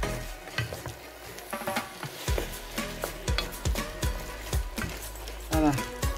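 Onion and aubergines sizzle steadily in an uncovered pan while a utensil stirs them, its scrapes and knocks landing in a loose repeated rhythm close by.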